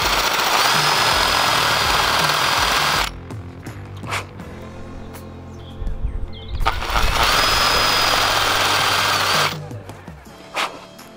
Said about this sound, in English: using this 12mm wood bit just to kind of make a little countersink